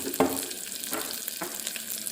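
Onion and garlic sautéing in a clay pot for Thanjavur-style fish curry, a soft, steady sizzle with a few brief stirring scrapes, close and fairly quiet, with no talking.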